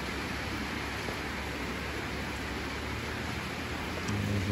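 Heavy rainstorm pounding a rural farmhouse garden in Udon Thani, Thailand: a dense, steady wash of rain noise fills the whole clip without letup, growing slightly louder near the end, with no voices.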